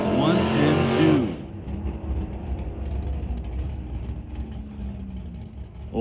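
A Top Dragster drag racing car at an NHRA event roars loudly for about a second, then its engine drops away as it coasts, leaving a low rumble and distant crowd noise.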